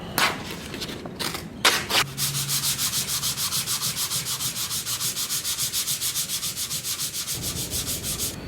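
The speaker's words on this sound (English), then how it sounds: "Now I'm going to use 240 grit dry and sand over that filler and around the repair." Dry hand sanding with 240 grit paper over body filler on a dented motorcycle tank: a few separate scrapes, then a steady run of quick, even back-and-forth rasping strokes, close and continuous.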